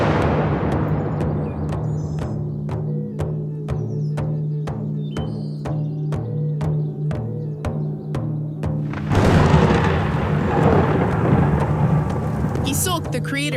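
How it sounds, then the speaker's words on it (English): A lightning bolt's thunder sound effect builds from a series of rhythmic, evenly spaced thumps, then breaks into a loud, broad rumbling crash with a rain-like hiss. "sent a bolt of lightning that created Alaqsitew, Mother Earth"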